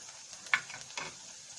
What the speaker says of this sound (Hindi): अब सब्ज मिर्च को हम थोड़ी देर फ्राई कर लेंगे।